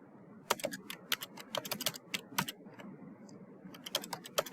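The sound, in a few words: typing on a computer keyboard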